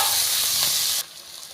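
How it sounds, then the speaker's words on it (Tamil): Onion and a single tomato sauté in a pan for a chicken kulambu, giving a steady broadband sizzle that drops suddenly to a quieter hiss partway through. "ஒரே ஒரு தக்காளி மட்டும் சேர்த்து நல்லா வதக்கிக்கலாம்"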